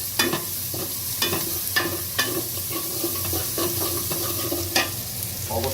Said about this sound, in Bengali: এরপরে আবার নাড়া দিব।